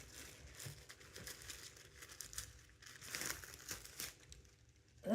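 Plastic packaging is pulled open with continuous soft crinkling and rustling, close and quiet, swelling into a slightly louder crackle at the end.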